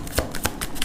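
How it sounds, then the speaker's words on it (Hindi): Tarot cards shuffled by hand in a brief burst of three quick papery riffles, close and alone. "लास्ट शफल, किसी को आना है तो आ जाए।"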